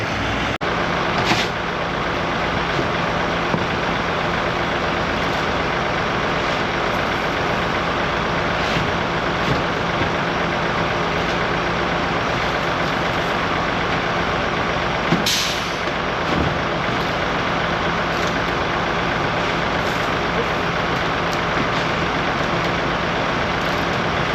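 A truck engine idles steadily and fairly close for the whole stretch, a constant rumbling drone broken by a few brief sharp hisses and clanks, with one stronger burst partway through.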